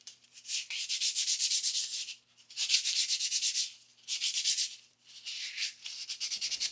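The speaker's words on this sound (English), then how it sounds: "I just decided to give it a scuff sanding." Plastic is scuff-sanded by hand before gold leaf goes on, in rhythmic bursts of rapid back-and-forth rubbing strokes with short pauses between each run, close up and alone.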